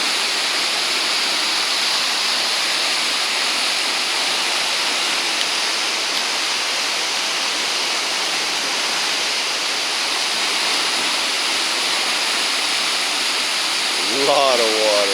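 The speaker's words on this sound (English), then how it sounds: "Wow, that's a lot of water." Rushing water of a spring at Big Spring State Park, a steady, loud broadband roar that holds constant throughout, with a brief voice near the end.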